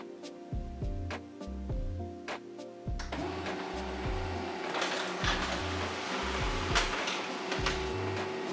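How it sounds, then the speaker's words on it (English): A Canon LBP122dw laser printer prints a document, opening with rhythmic mechanical clunks and feed motor steps, then settling into a continuous whirring rush with repeated clicks, close and moderately loud, with no talking. "I open the app, add my network printer, and quickly print a document."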